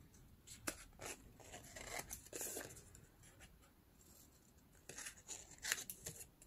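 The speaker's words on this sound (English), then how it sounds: "I can take my scissors and cut these corners" Scissors snipping the corners of a folded 12x12 paper sheet, a few short crisp cuts and rustles in separate bursts, quiet and close with no talking.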